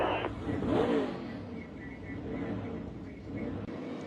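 NASCAR Cup Series stock cars racing around the short track at Bowman Gray, with engine noise rising as the leaders pass close by, then a steady roar from the field continuing across the clip.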